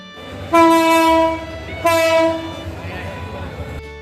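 A train horn sounds two loud, sustained blasts close by over a low rumble of rail noise at Dhaka railway station.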